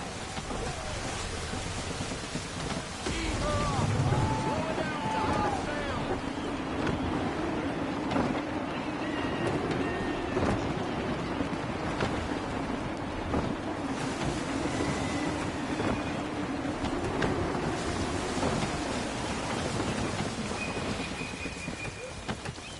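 Stormy sea with gusty wind in Assassin's Creed 3: a constant rushing roar of wind and rain-like spray across the whole stretch, with a low rumbling undertone and occasional creaks and thuds.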